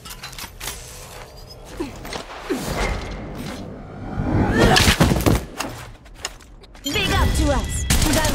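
Gunfire in Apex Legends Mobile, sharp bursts of shots and impacts mixed with game sounds and bursts of player voices, growing denser toward the middle and end.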